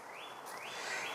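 A bird chirps softly in the distance over a quiet outdoor hush by a kettle pond, with rising call notes repeating twice.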